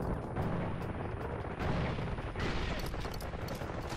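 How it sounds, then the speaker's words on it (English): A mortar explodes during Far Cry 4 gameplay, heard as a dense, loud rumbling blast with crackling bursts that continue throughout amid layered battle noise. "That got a mortar! It exploded right there."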